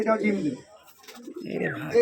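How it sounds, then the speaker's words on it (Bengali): Pigeons at a pigeon farm coo in low, soft bursts, with talking close by and partly over the calls. "চমৎকার দুইটা কবুতর"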